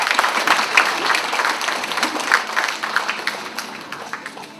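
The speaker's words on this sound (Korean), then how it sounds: "뜨거운 박수로 맞이해 주시기 바랍니다." An audience at an Incheon environmental corporation vision ceremony gives warm applause to welcome the chairman, steady dense clapping that gradually thins out.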